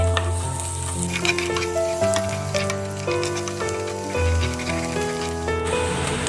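Garlic sizzles and fries steadily in a hot pan while pork-and-tofu stir-fry is made, a dense continuous crackle close up with faint stirring under a tonal background, no talking.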